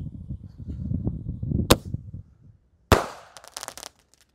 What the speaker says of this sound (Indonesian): Lanjut yang kita nyalakan di sini adalah pelontar mini Sonic Boom.